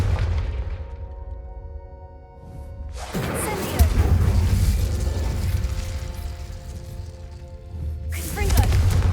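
In Hogwarts Legacy, a Confringo spell blasts candelabras, producing two loud fiery bursts with crackling, rumbling debris over a low game ambience.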